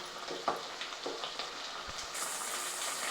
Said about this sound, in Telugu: ఇప్పుడు టమోటా ముక్కలు వేసుకుందాం